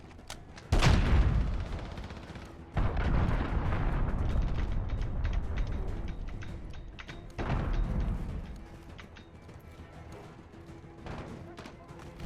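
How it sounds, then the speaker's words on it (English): Cruise missile strike explosions in Call of Duty Modern Warfare multiplayer, several loud booming blasts with long rumbling tails that fade between hits, with faint game radio chatter in the background. "Allied cruise missile Gotta launched."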